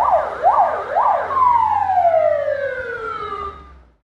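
Ambulance siren on an emergency crew's vehicle heading out to a patient, loud and close, first a few rapid rising-falling wails, then a long descending tone that fades out at the end.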